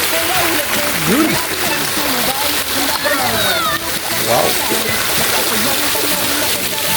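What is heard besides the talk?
water splashing while walking into a resort pool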